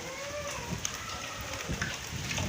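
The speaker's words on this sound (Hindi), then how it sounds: "बारिश भी काफ़ी तेज़ होनी है पई" Heavy rain pours down in sunshine in Dadyal, Azad Kashmir, a steady, close hiss of drops pattering on surfaces, with a few louder splashes.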